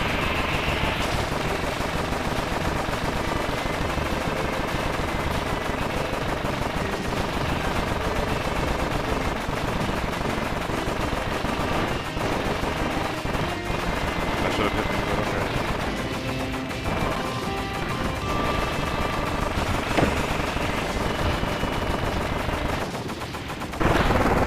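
Rapid gunfire from rotating gear-base gun batteries in the Kirby Planet Robobot video game rattles on continuously as dense, loud bursts over busy game sound.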